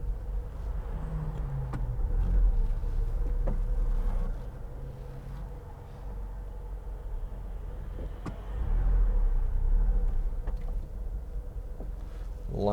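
A 2004 Smart fortwo 0.7 City Passion's small engine drones steadily from inside the cabin on a road drive, with a rise and dip in loudness and faint clicks over the low rumble.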